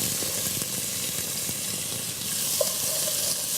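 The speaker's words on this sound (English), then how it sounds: "here we have the pepper going in" Pepper goes into a hot pan and fries with a steady, close sizzling hiss that continues throughout.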